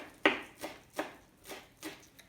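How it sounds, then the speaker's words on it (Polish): A knife finely chops green onion on a board in about five separate, crisp strikes spaced roughly half a second apart; the first is sharpest and the rest are softer, all close and quiet with no talking. "Cebulkę drobno kroimy"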